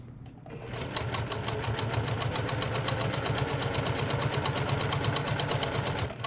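A sewing machine stitching a tote bag, running in a steady close, fast mechanical chatter with an even rhythmic whir for most of the clip after a brief quiet start, with no speech.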